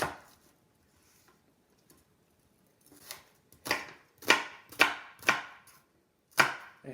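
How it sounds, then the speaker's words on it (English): A knife cuts through eggplant on a cutting board, a few quiet strokes first, then a run of five crisp, close thumps at an uneven pace, with no talking. "instead of actually dicing it, I'm just going to slice right here"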